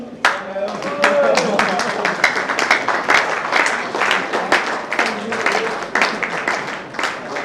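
Audience at a students' freshers' meet applauding students who excelled in exams, a dense patter of close hand clapping that carries on steadily, with some voices mixed in.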